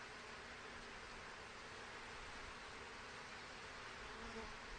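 A steady, faint hum of buzzing honey bees fills the whole stretch, even and continuous, the bees massed inside a hive.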